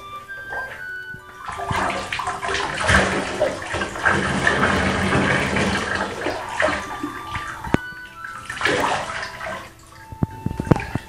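Water splashes and pours heavily over hair for several seconds, close by, with a softer second pour near the end and a few small knocks.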